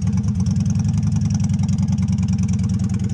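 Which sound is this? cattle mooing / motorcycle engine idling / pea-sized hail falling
motorcycle engine idling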